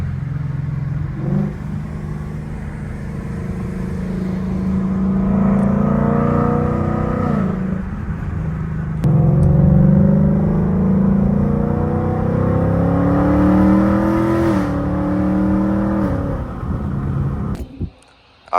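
A Ford Mustang GT S550 with a new engine drives along a road; its engine drones and rises in repeated revving pulls between gear shifts, heard up close from inside the car, then drops away at the very end.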